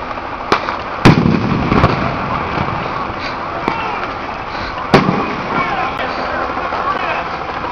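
Bombing explosions during a peace march sound as sharp, scattered booms and pops over a dense, noisy crowd din, several distinct blasts standing out across the stretch, with people talking throughout.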